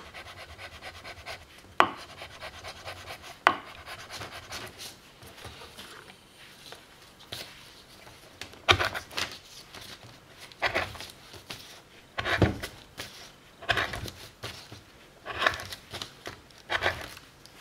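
A blade slicing through paper, with a few sharp cuts and rasping strokes at irregular intervals, close by and fairly quiet, no talking.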